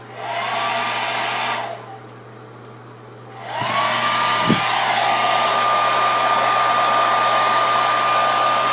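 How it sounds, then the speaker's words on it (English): A handheld hair dryer blows steadily on hair, cutting off for a moment with a falling whine, then switching back on and droning loudly and continuously up close. "I do blow dry mine"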